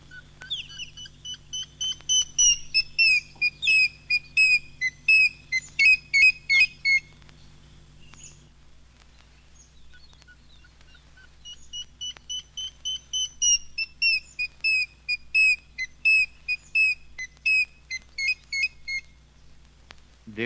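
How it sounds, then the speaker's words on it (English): Grey hornbill giving an intense, prolonged whistle: two long runs of rapid, evenly spaced piping notes, loud and close, separated by a brief pause, over a low steady hum. "The grey hornbill has a curiously intense, prolonged and rhythmical whistle."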